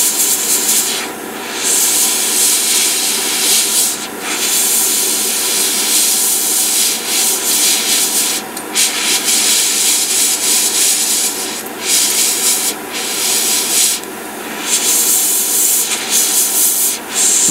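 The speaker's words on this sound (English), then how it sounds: "I'm kind of being annoyed right now with my airbrush" An airbrush sprays paint onto PG 1/60 Unicorn Gundam model kit parts, giving a close, loud, continuous hiss broken by brief pauses where the spray stops and restarts, with no one talking.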